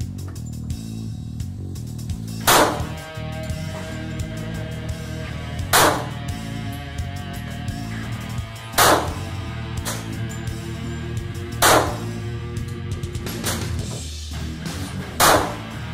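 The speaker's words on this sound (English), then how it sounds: "Glock model 36, first shot." Glock 36 pistol fired at a shooting range: five sharp, loud single shots spaced about three seconds apart over a steady background hum, with no talking.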